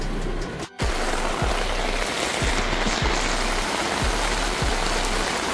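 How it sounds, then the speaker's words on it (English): Steady rain falls outside in front of a Dunkin' Donuts, a dense continuous hiss of drops hitting pavement and puddles, close and loud with no talking. "look at this rain"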